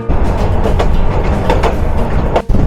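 A local commuter train running on rails near Jamalpur, Bangladesh, heard from aboard as a loud continuous rumble with rhythmic clacks and rattling from the carriage.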